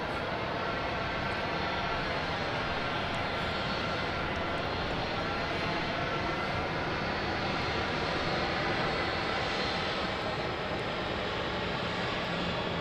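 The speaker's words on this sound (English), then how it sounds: "Got a plane coming in." Southwest Airlines jet landing at Dallas Love Field at night, a loud continuous engine roar holding steady for the whole stretch, close and unbroken, with no voices over it.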